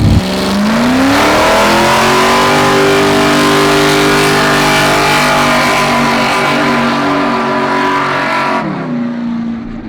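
A blown 1970 Dodge Charger R/T engine revs loud and close, its pitch climbing and holding in a steady high roar for several seconds before dropping back near the end.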